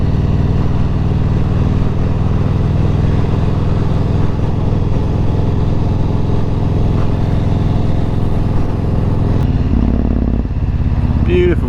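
A Yamaha MT-01 motorcycle climbs Porlock Hill in Exmoor National Park, its engine droning loud and steady throughout with a rider's voice partly over it.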